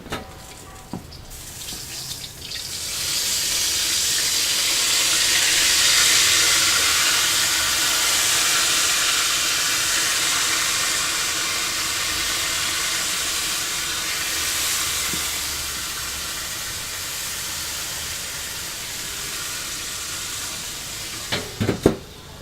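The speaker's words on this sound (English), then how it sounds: "what we're going to do now is apply the pork shoulder mop" Sizzling hiss as a beer-based BBQ mop is applied to a pork shoulder on a smoker, a steady bright spray-like sizzle that swells and holds for about twenty seconds, with faint clicks at the start and end.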